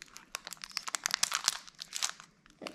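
Plastic snack packet being punctured and crinkled by hand, a close, busy run of sharp crackles and crunches lasting a few seconds, with no talking.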